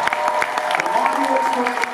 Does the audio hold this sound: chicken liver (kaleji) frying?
no